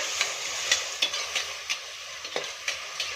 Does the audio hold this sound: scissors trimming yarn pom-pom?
no